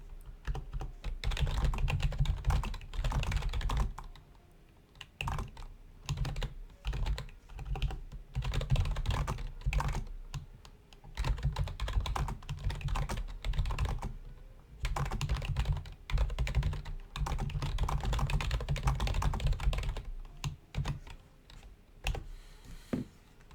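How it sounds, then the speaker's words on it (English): Steady typing on a computer keyboard: brisk runs of close, crisp key clicks in bursts with short pauses, continuing throughout with no talking. "All I have to do is click on the number I just called, go to the message, and start typing"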